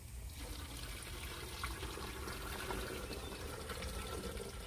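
Water poured from a bag into a Berkey gravity-fed water filter inside a campervan, a steady close splashing trickle running throughout.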